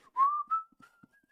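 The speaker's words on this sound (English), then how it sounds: "Gotta love that whistling." A short, clear whistled note slides upward and holds, followed by a second brief whistle, with a few faint taps afterward.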